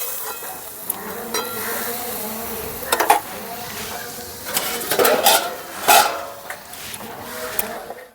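A tomato, potato and eggplant curry is stirred in a pot, with a soft, continuous sizzle and bursts of scraping and clanking as a spoon works against the metal, with no one speaking.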